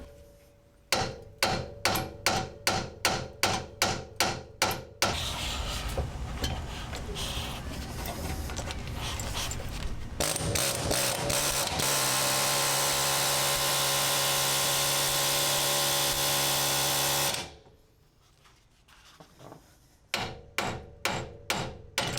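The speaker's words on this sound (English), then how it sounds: "let's pull out the air hammer first." Rapid bursts of a pneumatic air hammer rattling loudly on a Honda CRX lower control arm, alternating with long sustained hammering stretches and a steady compressor-like hiss, close and harsh.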